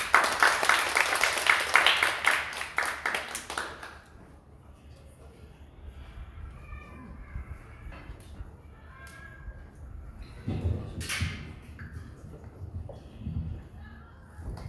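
A church congregation applauds loudly for about four seconds during a Sunday afternoon service, then the clapping stops and a quieter room with faint movement and murmurs follows.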